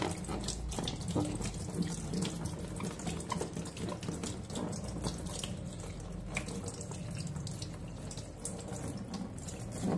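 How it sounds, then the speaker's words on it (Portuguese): Running tap water splashes steadily onto a transparent vinyl sheet held beneath it, a close, continuous hiss with small irregular patters and drips. "colocar debaixo d'água para vocês verem"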